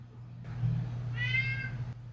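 A cat gives a single drawn-out meow, close and fairly quiet, over a low steady hum.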